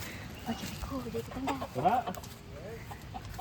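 A chicken clucks in short bursts on Lakshadweep, with one brighter call standing out midway, heard amid people talking and steady background noise.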